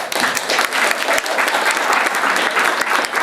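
An audience claps together, a loud, dense burst of many hands filling the whole stretch, close and alone with no talking over it.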